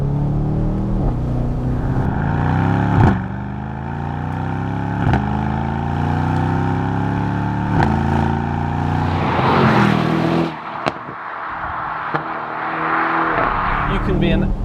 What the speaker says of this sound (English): The sound of the S63 and E63 version of this engine, it's just incredible.